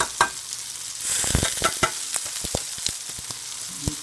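Ravioli and cherry tomatoes frying in a pan while being stirred, a soft sizzle broken by clustered scraping and clacking of the utensil, close and moderately quiet.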